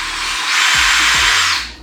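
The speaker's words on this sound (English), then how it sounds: "And then you just drill that out." A short burst of a power drill whirring at high pitch, briefly winding up and biting into a metal rivet, drilling it out before spinning down.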